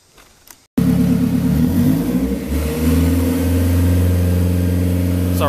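Turbocharged Honda Prelude engine idling on a dyno during tuning, starting up after a brief quiet moment and then settling into a loud, steady, rumbling idle with slight fluctuations, close and continuous.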